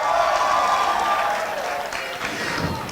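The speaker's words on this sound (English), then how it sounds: "a huge round of applause for the director of our play" A school drama audience applauds the director before a high school production of The Importance of Being Earnest, with continuous loud clapping and crowd noise mixed in.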